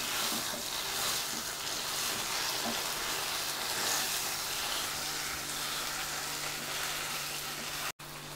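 Moong dal paste fries in ghee in a pan for pesara pappu payasam, giving a dense, even sizzle that carries on throughout at moderate loudness and breaks off sharply once near the end.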